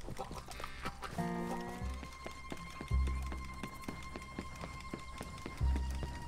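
In Red Dead Redemption 2, a horse gallops with rapid rhythmic hoofbeats and lets out a clear rising neigh, with heavy low thuds recurring, all fairly close and without talking.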